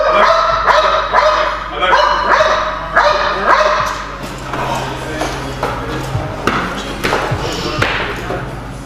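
A personal protection dog barks in loud, repeated bursts at a steady rhythm, with a few thumps and whimpers between barks and occasional faint voices in the background.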